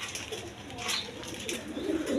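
Pigeons kept in pairs for breeding, including a pair of Chuachandan pigeons, give low soft cooing calls, close and fairly steady, with rising throaty phrases toward the end.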